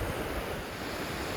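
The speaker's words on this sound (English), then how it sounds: "we're going to enjoy the waves this morning" Ocean waves breaking on Myrtle Beach on a morning, a loud continuous wash of surf close by, with wind buffeting the microphone.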